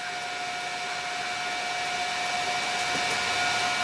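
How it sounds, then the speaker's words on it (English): A washing machine motor with a pulley, rigged as an air raid siren, gives a steady whirring drone with a constant high tone, holding even and close without rising or falling. "it'll be a good air raid siren motor, this"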